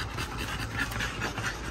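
Bully-breed dogs pant steadily at close range in a kennel, a continuous breathy rasp with soft rhythmic pulses and no talk over it.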